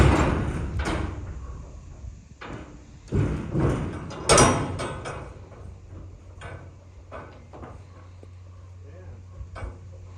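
A steel 20 ft high cube shipping container door swings open with heavy metallic clunks and thuds, several loud knocks and a scrape spread across the stretch, fairly close, with some talk mixed in.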